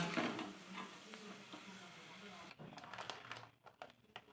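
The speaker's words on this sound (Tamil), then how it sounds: "பருப்புங்க நல்லா பொரியணுங்க ஒரு ரெண்டு நிமிஷம் பொரியட்டுங்க" Lentils frying in hot oil for a mixture snack make a soft, faint, steady sizzle that thins out midway, giving way to scattered light crackles and stirring clicks.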